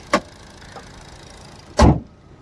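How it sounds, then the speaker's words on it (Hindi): The bonnet of a 2023 Hyundai Creta SX petrol slams shut with a heavy, close thud, preceded by a brief, sharper click a moment earlier. "तो देखिएगा, बोनेट बंद कर रहा हूँ मैं अभी"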